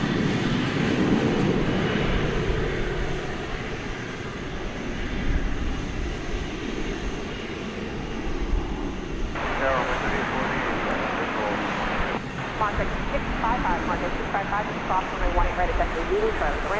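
An American Eagle Embraer E-Jet, an Embraer 170, rolls past at DFW Airport at night, its engines a steady, fairly loud broadband roar that holds for the whole stretch, with people talking underneath.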